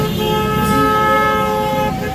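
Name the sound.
car horns honking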